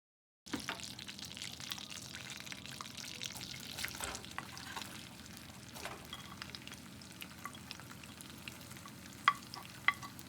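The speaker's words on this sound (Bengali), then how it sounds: "আমি ভেজিটেবল অয়েল এড করছি এবং এটা একটু গরম হওয়ার পরেই আমি পেঁয়াজগুলি দিব" Onions frying in hot vegetable oil for beef haleem, a steady soft sizzle and crackle with occasional stirring scrapes and a couple of sharper pops near the end, no talking.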